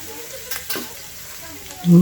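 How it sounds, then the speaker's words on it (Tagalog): Ginger slices sizzle softly in a hot oiled pan, a faint frying hiss with a couple of scraping stirs, then a louder hum near the end; no talking. "mag-iisa muna ako ng luya"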